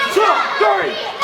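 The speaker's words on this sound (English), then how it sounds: "And the crowd, their opinions on what they think of Max Bane" Crowd at a live Warriors of Wrestling event, shouting and jeering together in a loud, close mass of voices in two rising surges.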